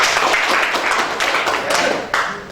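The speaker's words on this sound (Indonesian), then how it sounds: "Ini tepuk tangan buat Tuhan" A church congregation claps together in a dense, sustained round of applause during a worship service, loud and filling the room, with a few sharper taps near the end.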